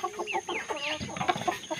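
Three-month-old Brazilian stag chicken while eating, giving soft, rapid clucks and short warbling calls close by for under two seconds.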